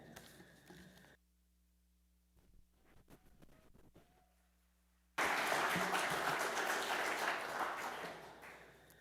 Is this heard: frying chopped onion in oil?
no